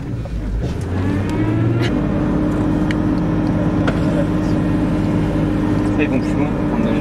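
A vehicle engine drones and strains while climbing dunes in the southern Tunisian desert, holding a loud, steady tone that shifts pitch near the start, with voices talking faintly over it.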